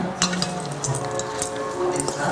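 Tofu with balsamic dressing is stirred in a hot pan, with a low sizzle under scraping and clinking utensil strokes against the pan and brief voice sounds.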